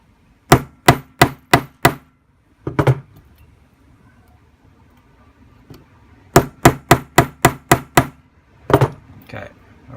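A hammer strikes a snap fastener setting tool from a Birch kit in two bursts of five or six sharp metallic taps, with a quiet gap between them and a few softer knocks afterward.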